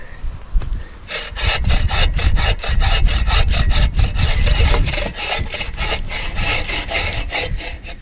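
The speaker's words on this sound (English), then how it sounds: "I'm grabbing the log with my right hand and sawing with my left" A hand saw cuts through a log in the woods in a steady run of rhythmic strokes, close and loud, after a brief quieter start.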